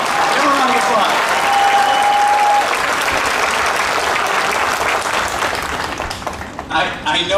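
A crowd at a high school graduation ceremony claps in a thick, sustained ovation that starts strong, with a brief whistle early on, and gradually thins over seven seconds as speech resumes.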